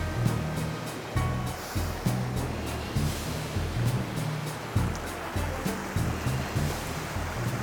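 Moccasin Creek in Georgia rushes steadily over rocks on a trail near Hemlock Falls, a continuous broadband wash with soft rhythmic thumps and no talking.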